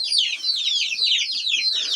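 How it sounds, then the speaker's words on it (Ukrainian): Dense high-pitched peeping from many chicks in a coop, continuous and overlapping, close by with no talking. "І от наші курчата сидять тепер в клітці"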